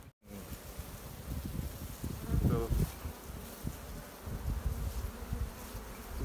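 A steady, dense buzz of many honeybees at close range, balling a queen, continuous throughout with faint rustling; no speech.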